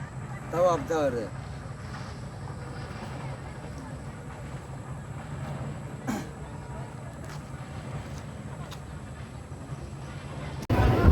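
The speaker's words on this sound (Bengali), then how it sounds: "ট্রেন ঢুকে গেছে" A passenger train pulls into a railway station with a low, continuous rumble and a few faint clanks, while people talk nearby over the noise.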